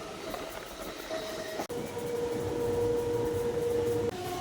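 A Panvel-bound suburban local train runs steadily, with a loud continuous rumble and rattle and a sustained metallic whine. The noise dips briefly for a moment partway through, then carries on without speech.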